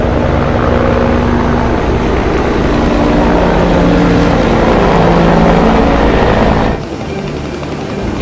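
A black helicopter passes overhead in an urban neighbourhood, its loud, steady rotor and engine drone filling the air before easing slightly near the end.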